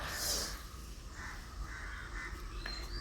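Crows caw outdoors in the morning, with several harsh calls overlapping at moderate distance over a low background rumble.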